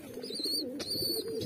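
Baby pigeons coo softly while being hand fed, a faint, close, continuous low burbling with a thin high squeak running over it and one brief sharp tap midway.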